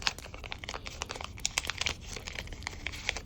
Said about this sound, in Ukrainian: І ми відкриваємо нарешті цю довгоочікувану